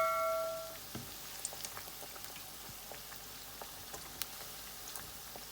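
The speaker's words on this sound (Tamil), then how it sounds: "இப்போ இது நல்லா ஃப்ரை ஆகட்டும் 2 நிமிஷம்." Cauliflower vadai frying in hot oil give a steady, soft bubbling crackle with scattered small pops, fairly quiet and continuous, with no voices.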